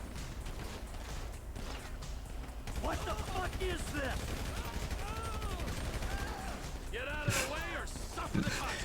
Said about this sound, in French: Mitraillette.